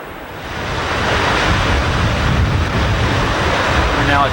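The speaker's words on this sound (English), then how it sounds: "This is the river right near Tower." A river flowing near Tower Falls in Yellowstone makes a steady, loud broadband rush of water that swells slightly in the first second and then holds constant, with a windy, surf-like quality.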